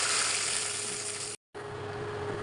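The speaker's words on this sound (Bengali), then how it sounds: "এখন ডালটা বাগার দিয়ে দিব।" Lentil dal being tempered with onion and garlic fried in hot oil, a loud continuous sizzle that cuts out briefly before carrying on close and steady.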